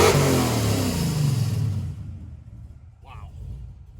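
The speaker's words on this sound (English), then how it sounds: "Check out the exhaust." A 1969 Chevrolet Camaro Pro Touring, fully restored, with a 5-speed, revs its exhaust in a loud, close roar that falls away after about two seconds, followed by a brief faint voice.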